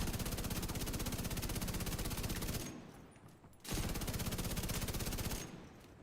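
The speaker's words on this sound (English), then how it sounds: "Then if I go to hip fire" Sustained hip-fire bursts from a rapid-firing gun in The Division 2, loud and close, with two long bursts separated by a brief pause and a short tail at the end.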